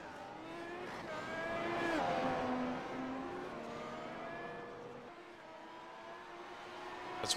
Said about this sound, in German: Viele finden natürlich den Original F1-Sound, so wie wir den aus den letzten Jahren kennen, wesentlich schöner.